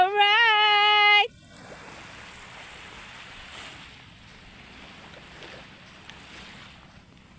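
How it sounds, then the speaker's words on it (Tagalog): Calm sea waves wash steadily and softly onto a beach, with wind across the microphone. A brief hummed or sung melody opens the sequence before the even surf noise continues alone. "ganda nga ng dagat. Kalmang-kalmang dagat."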